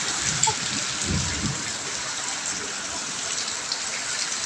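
Steady heavy rain hisses close by, a dense broadband wash with a low rumble near the start.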